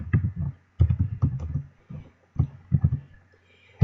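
Typing on a computer keyboard while writing JavaScript code, with bursts of rapid close clicks and key taps separated by short pauses.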